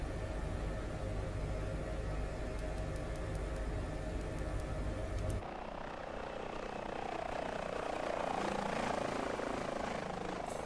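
A helicopter in the DCS flight simulator game roars with a dense, steady rotor and turbine drone, loud and close, shifting abruptly midway to a rougher, airier whoosh, with no talk.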